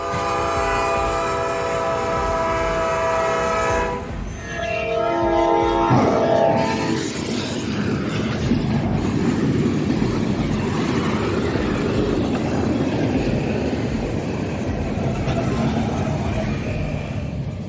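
A train horn blares with steady tones for several seconds, then a loud, continuous rumble of rail cars rolling over the tracks close by.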